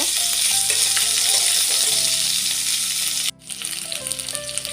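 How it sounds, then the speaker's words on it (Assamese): Ginger-garlic paste sizzles in hot oil while being stirred for a homemade paneer dish; a loud, steady frying hiss with occasional spoon clinks, briefly cutting out for a moment before the sizzle resumes. "পিচি থোৱা আদা নহৰু পেষ্টটো দি দিলোঁ আৰু এইটো অলপমান এনেকৈ লৰাই থাকিব।"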